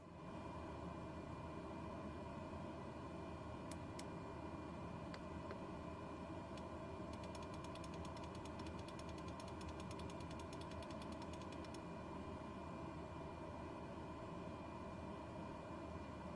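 A steady, low aircraft engine drone from Microsoft Flight Simulator 2020, flying in Germany, holds at a faint, even level throughout, with scattered light clicking partway through.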